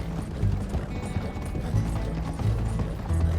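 Horse hooves gallop in Red Dead Redemption 2, a steady, fast clip-clop that stays close and loud throughout, with a faint mechanical rattle underneath and no speech.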